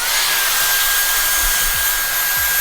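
A Dyson Airstrait hair straightener blows cold air with a steady, loud, airy whoosh that holds even throughout, with a faint motor whine underneath.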